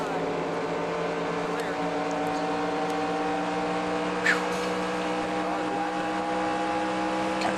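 A race car engine from NASCAR Racing 2003, at the Coca-Cola 600, drones steadily and loudly for the whole stretch with a sustained tonal whine and one brief bump partway through.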